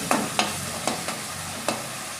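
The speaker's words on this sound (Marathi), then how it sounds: "आता तेलावर नरम करून घेऊ टोमॅटो" Chopped tomatoes sizzle as they are sautéed in hot oil for a green chickpea curry, a steady close frying hiss broken by several sharp stirring scrapes, with no voices.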